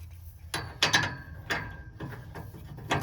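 A ratchet wrench with an O2 socket snugs an oxygen sensor on a car, giving a few separate close clicking strokes with short gaps between them.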